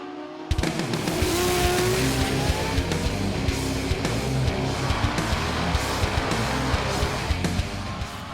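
Loud, continuous roar of race car engines at the Haltech Grudge Kings heads-up drag racing event in Sydney, starting abruptly after a half-second of quiet and holding steady with rising and falling revs throughout.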